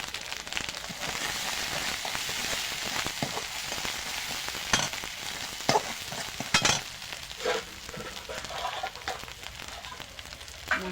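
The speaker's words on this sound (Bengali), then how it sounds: "মশলাটা কষিয়ে নিয়েছি" Spice masala with turmeric sautéing for catfish curry, a bright steady sizzle with intermittent spoon scrapes and clinks, close and moderately loud.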